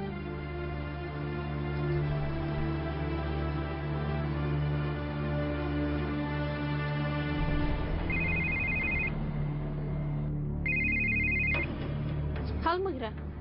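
A telephone bell rings in two short bursts late in a dramatic scene from the Turkish series Ezel dubbed into Kurdish, sounding over steady background music and voices.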